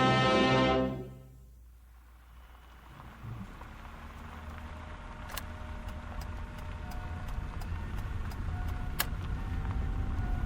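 A car engine hums steadily at the close of a scene in a radio drama, a low rolling road rumble with a faint hiss over it and a few sharp ticks, and no voices.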